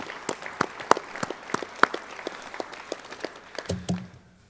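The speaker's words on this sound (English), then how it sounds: "So I'd like to give those a round of applause" Scattered claps from a small audience at a high school hall of fame ceremony honoring a varsity football team, a thin sparse patter with a few sharper individual claps, fading out near the end with a low hum.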